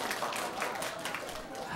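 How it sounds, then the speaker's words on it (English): An audience at a forum applauds faintly for a group of students and their teacher, a brief patter of clapping heard from a distance. "clap if he's your favorite student or your teacher"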